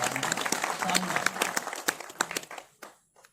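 Audience clapping at a Krishna festival poetry gathering, a dense burst of sharp claps that thins out and stops near the end.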